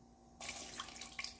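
Water being poured from a tap or container for a homemade syrup recipe starts suddenly as a bright, steady splashing stream, close and clear, with no speech.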